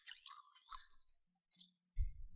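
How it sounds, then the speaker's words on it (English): Ice cubes are crunched and chewed right up against a microphone, giving several close, crisp bursts of crackling separated by short pauses, ending with a louder crunch. "I'm just going to eat this ice in the microphone."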